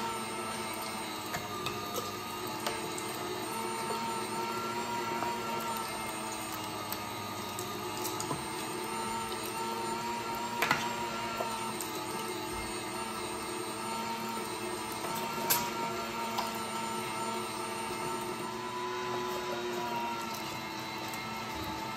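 An electric meat grinder runs steadily, grinding venison and fat pushed through its auger, a continuous motor whine with occasional brief clanks, close and alone without talk.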